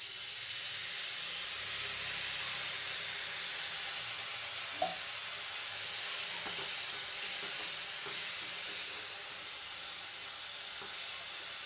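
A steady hiss and sizzle of water poured into a hot pan of drumstick leaves, with soft steaming and a few faint utensil clinks, close and continuous.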